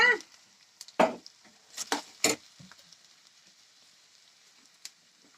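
Onions and drumstick pieces sautéing in a pan give a soft sizzle with a few sharp stirring clatters and taps spaced through the clip, then near-quiet frying with one final small clink.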